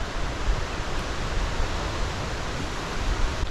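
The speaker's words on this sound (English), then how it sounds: "can hear that wind." Steady broadband wind roars across an outback campsite during a solo motorcycle wild-camping trip, a continuous gusty rush with slight swells and no voices.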